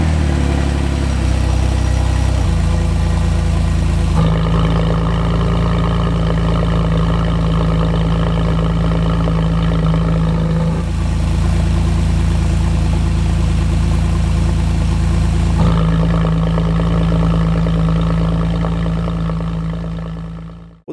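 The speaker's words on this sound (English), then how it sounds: "Let's go ahead and start the car and check out our new exhaust system." A Porsche 997 or 987 with a sport exhaust idles with a deep, rumbling exhaust note, shifting between steadier and throatier phases over about twenty seconds, loud and close.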